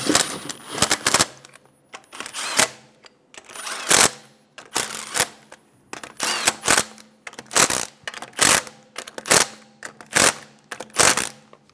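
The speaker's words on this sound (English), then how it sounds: "Snug down the lug nuts." Rapid bursts of a power tool snugging the rear wheel lug nuts on a 2012-2020 Chevrolet Sonic, close and loud, a dozen or so short rattling hits spaced evenly with brief pauses between them.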